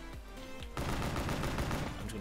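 Rapid gunfire in Black Ops 3 Custom Zombies on an island map, a few spaced shots followed by a loud sustained burst of automatic fire, with a voice nearby.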